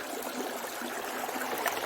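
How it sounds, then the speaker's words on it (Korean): A stream in the countryside flows with a steady broadband rush and soft burbling that stays close and even throughout, with no voices over it. "물소리"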